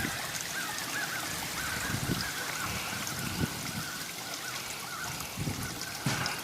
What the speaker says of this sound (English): you can see a little waterfall here